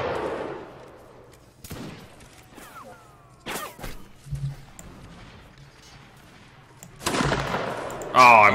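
Rifle shots crack out in the video game Mount and Blade Napoleonic Wars, scattered single reports at irregular intervals, some near and sharp, others faint and distant, with voices talking between them.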